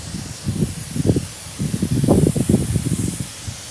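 Spray gun applying epoxy primer to the cab of a 1974 Ford F250, a close, loud hiss coming in short repeated bursts with rustling pulses.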